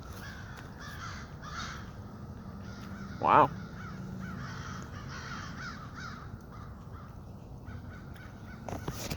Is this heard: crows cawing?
yes